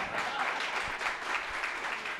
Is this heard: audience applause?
yes